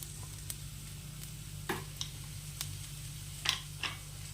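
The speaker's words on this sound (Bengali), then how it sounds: "তেলটা গরম হয়ে গেলে তার মধ্যে দিয়ে দেব 1 চামচ গোটা জিরা।" Whole cumin seeds sizzling in hot mustard oil, a quiet low crackle broken by several brief sharp pops and ticks, close and otherwise calm with no voices.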